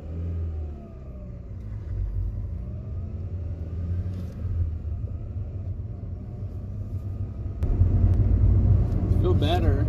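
Honda Prelude with a high-engagement clutch pedal pulling away in first gear: a steady low engine rumble that swells as it accelerates, louder near the end, with a voice talking over it.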